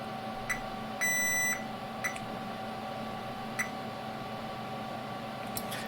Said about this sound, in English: Short beeps like that indicate some sort of capacitance or discharge.